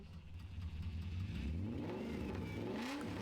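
An old BMW 5 Series with an exhaust leak revs its engine, the pitch climbing and falling over a low, rough, steady rumble, fairly close, with no talk.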